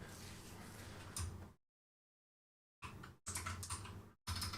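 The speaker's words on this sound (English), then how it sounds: "I'm pressing all the keys" A computer keyboard clatters in short busy bursts of key presses, fairly close, with a long silent gap and two brief pauses between the flurries.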